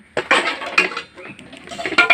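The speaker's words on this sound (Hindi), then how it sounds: "उसको बर्तन धो लीजिए," Metal dishes and utensils clink and clatter up close as a child washes them, with irregular bursts of scraping and knocking.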